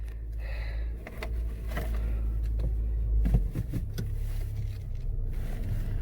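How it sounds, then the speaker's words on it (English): An auction car's engine runs with a steady, close, low rumble after starting, moving as it is driven, with a few faint mechanical clicks over the continuous hum. No voices. "this is whoa, it started. Let's see if I can drive it."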